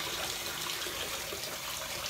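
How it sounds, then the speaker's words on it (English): Water pours out steadily in a soft, continuous splashing rush heard up close, with no talk over it. "Watch the water pour out."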